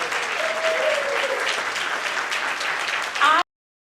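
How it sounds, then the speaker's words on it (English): Warm, continuous applause fills the room for honoree Norma J. Page at a community storytelling event, a dense crowd clapping with a faint voice underneath before it cuts off abruptly. "Yes, clap for her."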